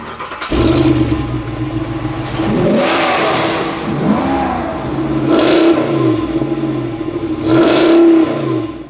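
The 6.4-liter Hemi V8 of a 2019 Ram Power Wagon starts and idles loudly up close, then rises in three distinct revs that swell and fall back to a rumbling idle.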